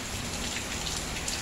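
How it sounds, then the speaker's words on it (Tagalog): Steady rain falls on a rainy day, an even hiss of drops hitting surfaces that continues unbroken and fairly quietly throughout, with no voices. "Ah, ulan, ulan, ulan."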